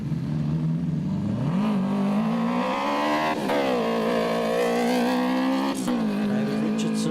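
A 1.7-litre Class 11 single-seater race car at a forest enduro event revs hard and accelerates away, engine pitch climbing through gear changes, loud and sustained, close by, with faint commentary in the background.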